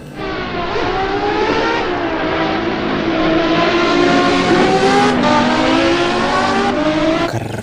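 Toy F1 race car engine revving effect, a loud continuous high-pitched whine that climbs steadily in pitch with brief dips, heard alone without talk.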